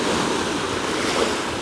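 Ocean waves wash onto the shore in a steady, close roar of surf mixed with wind, continuous and without voices.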